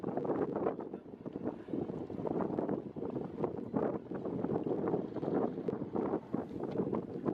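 Wind buffets a boat on its launch day as it reverses off after getting stuck, blowing onto the bow. A steady, rough rushing roar with gusty microphone rumble fills the whole stretch, and no one speaks.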